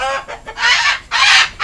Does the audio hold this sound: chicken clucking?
yes